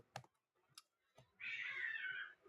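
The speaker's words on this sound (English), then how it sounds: "And there goes the cats." A cat meows in one long drawn-out call near the end, preceded by a few sharp clicks like keyboard taps in a quiet room.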